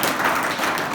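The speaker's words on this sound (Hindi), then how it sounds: "जोरदार तालियां बजाओ।" Applause from an audience at a scouts gathering with children, a dense steady patter of many hands clapping at close range for about a second, with no talk over it.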